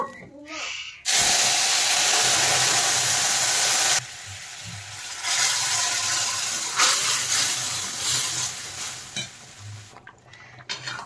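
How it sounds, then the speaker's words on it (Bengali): Cooked urad dal is poured into a hot ghee tempering with a sudden loud hissing rush lasting a few seconds, then settles into softer bubbling and stirring with some background voice. "এখন আমি ডালটা দিয়ে দেব"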